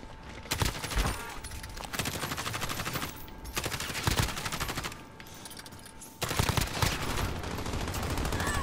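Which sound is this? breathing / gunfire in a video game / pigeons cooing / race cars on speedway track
gunfire in a video game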